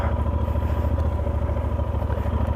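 A KTM motorcycle loaded with large panniers runs on a trail, its engine producing a steady, close, rapid mechanical throb with faint clatter and no speech.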